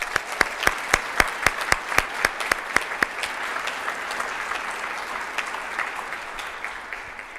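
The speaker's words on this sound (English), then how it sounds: "I would like to ask for one more round of applause for our class of 2025" Applause from the audience at a Physician Assistant Studies white coat ceremony, honouring the class of 2025: a few loud, sharp claps at the start, then a steady wash of clapping from the whole crowd that tapers slightly over the last seconds.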